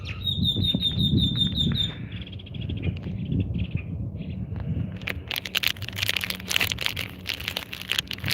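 Small wild bird giving a quick run of repeated high chirps near the start, followed by faint, scattered twittering and rustling nearby.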